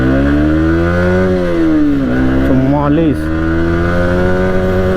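A Yamaha MT15 motorcycle accelerates in first gear, its engine note climbing steadily, then wavering and dipping briefly before pulling on loud and close. Someone talks over the engine.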